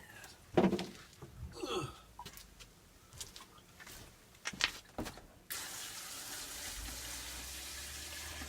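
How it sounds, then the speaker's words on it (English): Water runs from a tap into a small transfer container during green olive processing, a steady gushing stream that starts after several seconds of scattered clinks and handling noises. "we're refilling the little transfer container so we can put water back in there"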